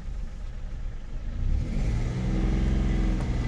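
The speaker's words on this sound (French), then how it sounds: "Oh, c'est le bruit d'échappement qu'elle fait." An old car engine idles roughly and then revs up, its throaty exhaust note rising and holding louder toward the end.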